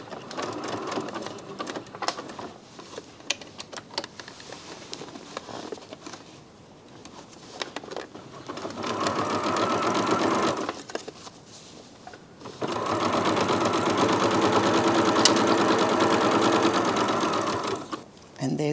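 Domestic sewing machine stitching a tuck in a quilt-as-you-go quilt, its rapid needle rattle running in two sustained bursts after quieter handling noises, close and loud.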